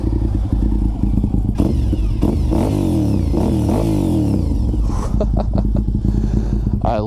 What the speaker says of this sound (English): let's hear the bike